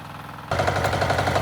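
A Motor Sich walk-behind tractor engine starts up and chugs loudly while digging potatoes in heavy stony soil, a close, steady rapid thumping with no voices.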